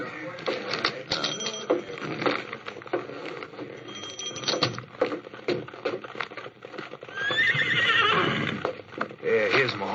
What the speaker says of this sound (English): Yeah, here's my horses.